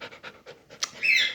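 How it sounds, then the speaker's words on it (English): A dog pants in short rhythmic bursts close by as it tries to climb into a lap, with a louder huffing breath at the end; no talk. "as this dog is trying to get into my lap"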